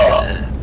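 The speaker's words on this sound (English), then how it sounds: "He's burping with us." A loud, close burp rumbles out over online voice chat during a truck-driving game session, a single drawn-out belch.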